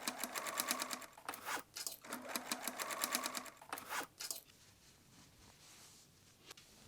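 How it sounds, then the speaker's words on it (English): A sewing machine stitches elastic onto jeans in two runs of rapid, even needle chatter, close and clear, separated by short pauses and ending in quiet handling noise. "Pin bottom edge of elastic to jeans and stitch down."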